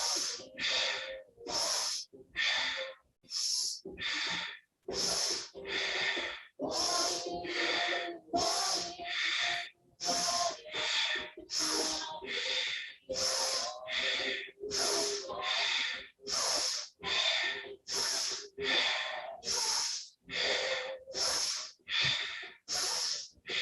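Slow, deep breathing during a held yoga pose, with about two dozen audible inhales and exhales in a steady rhythm, close and fairly quiet.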